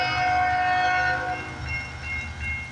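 A CN freight train rolls past on a foggy, rainy morning, its horn blaring in long sustained blasts over the rumbling of railcars, with wheel clatter continuing as the horn fades.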